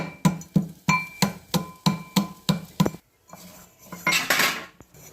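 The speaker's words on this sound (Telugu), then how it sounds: "ఈ బెల్లం కూడా బాగా దంచుకోవాలండి." Jaggery is pounded for ginger masala tea, with about nine sharp, evenly spaced metallic pestle strikes, then a pause and a brief scraping rattle.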